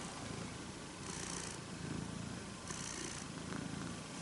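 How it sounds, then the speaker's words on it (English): A domestic cat purrs softly and close up in a steady rhythmic rumble, faint against a quiet indoor background. "He's purring. Can you hear him purring?"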